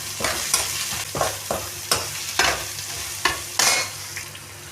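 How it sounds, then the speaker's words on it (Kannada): Ginger, garlic and curry leaves fry in a pan, making a continuous sizzle broken by regular scraping strokes of a spoon being stirred, close and fairly loud. "ಅದ್ರ ಜೊತೆ ಕರಿಬೇವು ಹಾಕಿದ್ದೀನಿ. ನಾನು ಫ್ರೈ ಮಾಡೋಣ."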